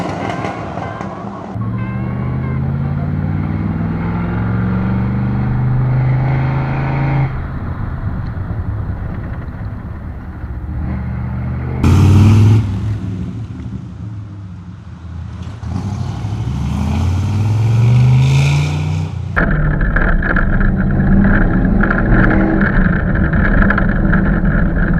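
A Corvette C3 Convertible drives along with a steady, loud engine drone and road rumble, its pitch rising and falling as it shifts and accelerates, with a louder surge midway.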